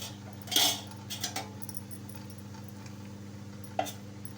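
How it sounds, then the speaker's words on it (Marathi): A metal spoon scrapes and clinks against a steel idli plate while rava idlis are lifted out, giving a few sharp, close taps and scrapes over a quiet kitchen hum. "तर आता आपण इडली काढून घेऊया चमच्याने"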